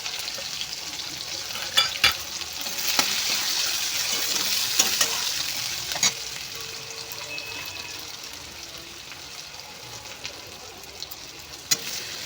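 Chopped onions fry in oil until reddish brown, with a soft continuous sizzle and several sharp clinks of a spatula against the pan; the frying fades gradually toward the end.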